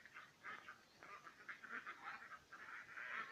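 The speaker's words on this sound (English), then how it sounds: "Not the fastest duck rush I've seen." A small flock of ducks rushing toward water, giving a continuous chorus of quacks close by, busy and overlapping for the whole stretch, with no talk.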